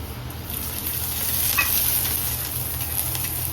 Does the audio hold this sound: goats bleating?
no